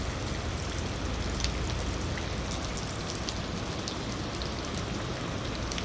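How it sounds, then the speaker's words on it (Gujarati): Steady rain pours down at a cow shelter, a dense, even hiss of drops on surfaces filling the whole stretch with no break and no voices. "વરસાદ ચાલુ છે"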